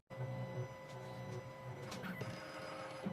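A 2M2 Tank 2 Pro key machine decodes the side of an original Citroen SX9 key, giving a steady mechanical whirring hum with faint clicks and shifts in tone, close and continuous with no talking.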